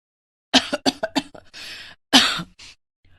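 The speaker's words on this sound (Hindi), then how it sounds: "वो खांस रही थी।" A woman coughs in a quick run of about five sharp coughs, then a rougher hacking burst and one short final cough, close and clear in a quiet room.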